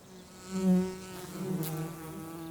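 Honeybees and wild bees buzz around blackberry blossoms, a steady close insect hum that swells and passes, rising briefly as a bee flies near.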